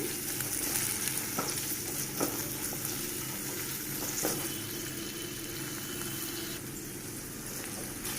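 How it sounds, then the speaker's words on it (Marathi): Vegetables sautéing in a pan for homemade Indian tacos, giving a steady, even sizzle that runs throughout at moderate volume with faint stirring clicks and no talking. "तो छान परतून घ्यायचा आहे, पण अगदीच त्याला मऊ करायचं नाही आहे"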